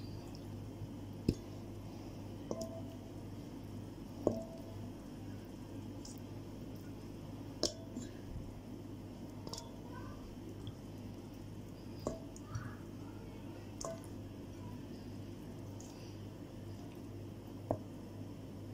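Chicken drumsticks being mixed by hand with spice masala for marinating, giving soft wet squishing and occasional small sharp ticks over a faint steady hum, quiet and close, with no talking.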